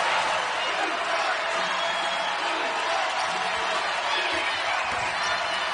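A dense, steady crowd roar fills the arena at a Louisville versus Notre Dame college basketball game, loud and continuous beneath play-by-play commentary.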